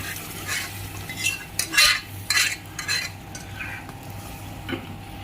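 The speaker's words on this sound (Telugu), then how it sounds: "ఇలా వేసి 1 నిమిషం మంచిగా కాస్త కలపండి." A spoon stirs boiled toor dal into cooked vegetables and tempering in a pot, several scraping, clinking strokes in uneven bursts over a faint background of frying, no talking.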